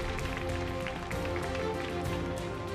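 Audience applause at the Closers 2016 Super Challenge awards, dense continuous clapping from a crowd that fills the space evenly and steadily throughout.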